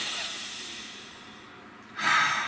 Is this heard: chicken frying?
no